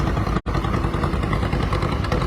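A 1936 model B antique tractor engine runs steadily during a parade at an antique power show, a dense continuous mechanical drone with one brief dropout near the start and no talk over it.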